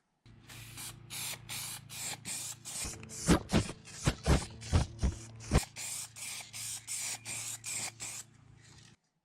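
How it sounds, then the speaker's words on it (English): Spray lacquer hisses from an aerosol can in a rapid series of short bursts, about two dozen close puffs with brief gaps between them and several louder, sharper bursts in the middle. "Now they get a couple of coats of spray lacquer to get that otherworldly sheen"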